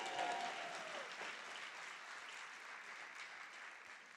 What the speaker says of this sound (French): Est-ce que vous pouvez acclamer pour ma femme?